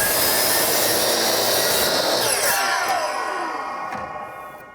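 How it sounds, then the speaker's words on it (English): A handsaw cuts an exterior wooden door-trim kickboard to length, a loud, continuous rasping stroke close by that tapers off toward the end. "First thing I'm going to do is kind of hack this to length."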